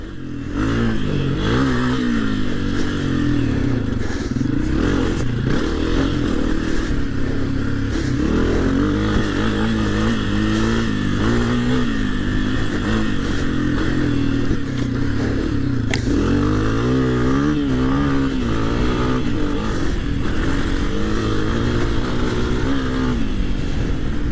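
A 2022 Honda CRF250F dirt bike lapping a small turn track: a steady, loud single-cylinder engine note rising and falling as the rider revs through turns and shifts, with continuous close engine roar throughout.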